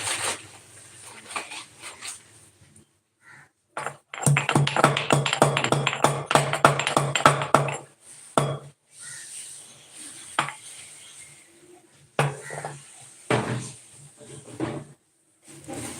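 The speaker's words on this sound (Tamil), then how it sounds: "இஞ்சி பட்டை ஏலக்காய் மிளகு இது எல்லாத்தையும் சேர்த்து நல்லா இடிச்சுக்கணும்" Ginger, cinnamon, cardamom and peppercorns pounded together for masala tea: a rapid run of hard, knocking pestle strikes in a steady rhythm, close and fairly loud, framed by quieter scattered taps and scraping before and after.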